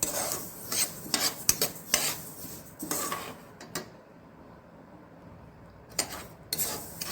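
Sesame seeds roasting in a pan, scraped and stirred with a spoon in bursts of gritty rasping, quiet between strokes and falling silent for a couple of seconds midway before resuming.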